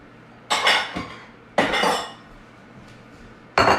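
Dishes clink and clatter as a bowl is taken out in a home kitchen, three separate bursts of ceramic and cutlery rattling, close and fairly loud, with quiet pauses between them.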